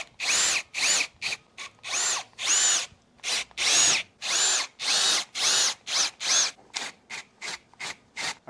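Power drill driving screws to mount an outdoor shower to a wall, with about twenty close, loud whirring bursts of varying length separated by brief pauses.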